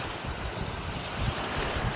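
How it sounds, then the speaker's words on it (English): Steady outdoor wind blowing across a microphone during a drone flight in gale conditions, a continuous broadband rush with low buffeting, moderately loud and unbroken throughout. "I've got the wind blowing in my face"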